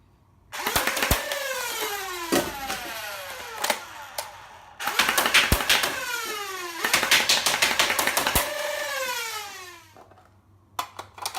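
A Nerf Stryfe flywheel blaster fitted with 180 motors spins up and fires in repeated bursts, each a rising motor whine with rapid dart shots, with short pauses between bursts, loud and close.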